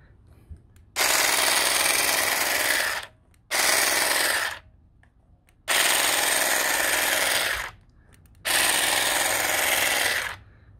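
Einhell GE-CG 12 Li cordless grass shears cutting grass in four loud bursts of buzzing, chattering blade action, each lasting a couple of seconds with short quiet gaps between, close to the listener and without speech.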